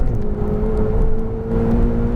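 A Ferrari 488 GTB accelerates at full power on a racetrack, its engine a loud, continuous whirring roar heard from the cabin with a steady, slightly climbing tone.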